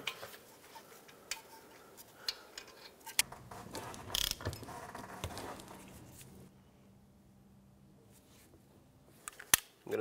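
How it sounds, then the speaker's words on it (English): A ratchet loosens the wheel bearing nuts during rear brake work on a 2006-2011 Chevrolet HHR, with scattered quiet clicks and metallic knocks up close, then a near-silent pause and a final sharp clack. "Take the two nuts and remove them, and then we can take this wheel bearing right off."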